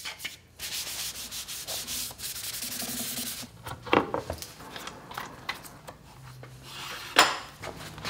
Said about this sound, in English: I'm going to apply some wiping poly to the mating surface of the jig.